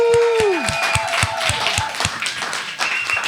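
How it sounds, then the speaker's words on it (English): Scattered claps from a small audience at a reading event, individual distinct hand claps in an uneven rhythm, with a brief ringing tone fading at the start. "Please clap for her."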